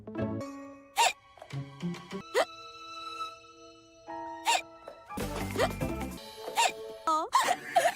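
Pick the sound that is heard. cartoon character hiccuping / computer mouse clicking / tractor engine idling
cartoon character hiccuping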